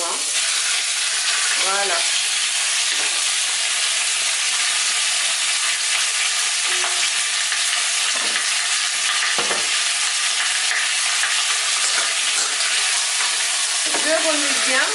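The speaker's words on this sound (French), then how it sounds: "Quand l'huile est chaude, nous allons mettre nos morceaux de viande, comme ceci." Pieces of meat frying in hot oil in a pan, a loud, dense, continuous sizzle close up with occasional stirring scrapes, while a person speaks briefly.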